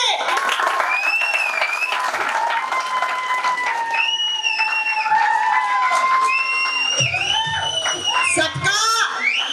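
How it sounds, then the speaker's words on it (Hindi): A crowd at a diamond celebration event applauds a performer, with clapping mixed into loud whoops, shouts and excited voices that stay dense and energetic throughout. "जोरदार ताली"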